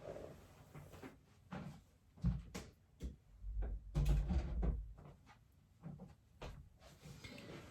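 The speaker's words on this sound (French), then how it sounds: "je vais juste aller fermer ma porte." A door being shut indoors in a home, heard as a few muffled knocks and thuds amid soft room noise, with no talking.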